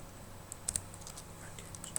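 Several quick, light keystrokes on a computer keyboard enter a package install command in a NuGet Package Manager console, clicking faintly and irregularly against a quiet room.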